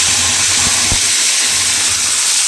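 Onion and tomato paste sizzling as it is added to hot oil for karela bora curry, a loud continuous hiss with a faint clink of utensils.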